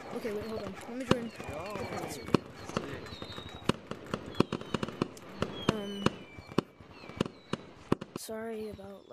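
Fireworks in the Gorilla Tag video game, a rapid series of sharp bangs and crackling bursts with whistling rises, close and loud, under excited voices talking.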